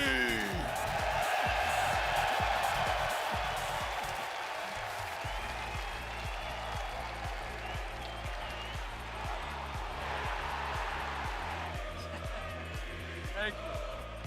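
Arena crowd in Boston at a Rocket League championship cheering for the team NRG, a broad sustained roar of voices and clapping that slowly eases, with a loud announcer talking over it.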